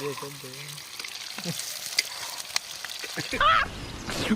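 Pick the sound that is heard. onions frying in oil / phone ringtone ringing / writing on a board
onions frying in oil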